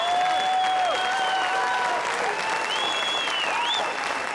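Crowd applauding a title-winning shot at a South African eight-ball pool championship, sustained clapping with overlapping whistles and cheers rising over it.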